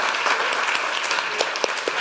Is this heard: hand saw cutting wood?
no